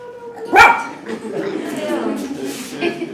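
A dog gives a single sharp bark at a conference, followed by softer whimpering yips mixed with people talking nearby.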